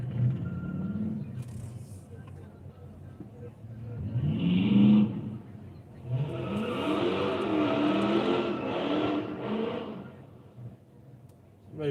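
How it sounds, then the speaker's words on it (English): Cars doing burnouts in a tight parking lot, heard from a distance as rising engine revs and tire squeal in two main bursts, swelling around the middle and lasting several seconds, with a voice speaking faintly at times. "They're doing some burnouts in that parking lot."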